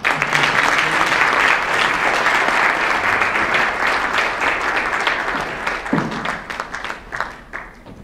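An audience at a French Valentine's conference on love and marriage bursts into loud, dense applause that fades over several seconds, with a few cheers and a voice near the end.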